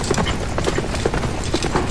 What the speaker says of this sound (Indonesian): Naik kuda dia, wah.